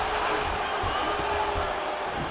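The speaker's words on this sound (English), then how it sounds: "huge pop from the crowd as the fighters get back up to their feet" A virtual arena crowd in the fighting game EA Sports UFC 5 roars in a sustained, dense wash of cheering, loud and continuous throughout, with no clear speech on top.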